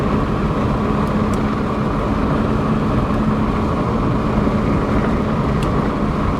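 A 1992 Saturn SL2 being driven, heard from inside the cabin as a steady, loud drone of engine and road noise with no distinct gear-change thumps standing out.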